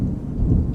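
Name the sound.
thunder rumbling in the video game Terra Nil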